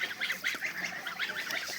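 Domestic geese honk repeatedly in a lively, overlapping series of nasal calls, close by and fairly loud, with no voices over them.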